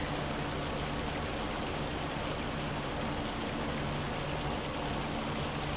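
Heavy rain storm in a farming video game on Ronida Island, a dense, constant hiss of downpour with a low rumble underneath, unbroken from start to finish.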